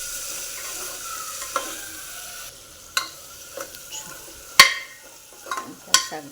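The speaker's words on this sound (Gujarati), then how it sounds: "ધાણા જીરું પાવડર, હળદર, ચટણી, મસાલાને આપણે સારી રીતે મિક્સ કરી લઈશું." Coriander-cumin powder, turmeric and spices are stirred in a frying pan, with a soft constant sizzle under several sharp scrapes and clinks of the spoon against the pan, close up with no talk.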